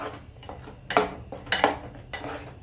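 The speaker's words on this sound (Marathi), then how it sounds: "मसाल्याचं भांडं धुवून टाकणार आहे थोडं" A small metal spice pot being washed in a home kitchen, with a few sharp clanks and scrubbing knocks spaced irregularly over running, splashy background clatter; no talking.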